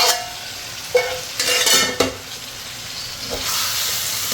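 Potato and capsicum sabzi frying in butter in a pan, a steady close sizzle broken by a few sharp stirring scrapes and clinks, with no talking.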